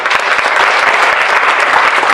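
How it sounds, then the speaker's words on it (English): Dense, steady applause from a community audience at a district attorney candidate forum, sustained and even at full strength throughout with no voices rising above it. "So please give each and every one of these people a round of applause for their hard work"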